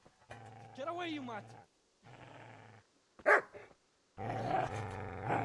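Dogs in the medieval role-playing game Kingdom Come: Deliverance bark and growl in close, loud bursts with gaps of silence between them, ending in a sustained stretch of snarling.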